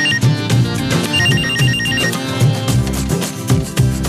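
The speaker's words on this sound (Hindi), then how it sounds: "तुम्हारा फोन है।" A phone ringtone plays loudly and alone, a repeating electronic melody with a regular rhythmic pattern that keeps going for several seconds.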